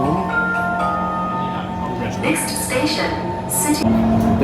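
Busy indoor ambience at Bugis metro station in Singapore, with a low rumble, faint tones and a chime-like ring, while people talk over it.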